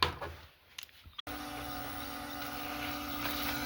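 A DJI Mavic 3 drone flies nearby, a steady electric hum settling in after a sharp break and holding level over outdoor background noise.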